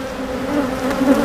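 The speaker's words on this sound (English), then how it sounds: "the bees are all over the camera again" Honey bees at a hive buzz right around the camera, a close, steady droning hum that rises and falls slightly as they hover near the lens.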